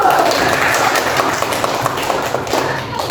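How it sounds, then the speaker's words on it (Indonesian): A school class applauding, with steady, busy clapping from many hands throughout, mixed with some light knocking and voices in the room. "Kasih aplaus dulu"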